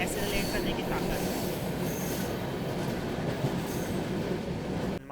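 A long passenger train hauled by a WAP7 electric locomotive, heard from on board as a loud, continuous roar of rumbling wheels with high metallic squealing over it and no clear gaps.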